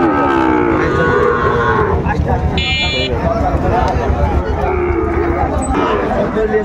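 Cattle, including Sahiwal-breed bull calves, low and moo at a busy livestock market in Dinajpur, with loud nearby talking and crowd chatter throughout.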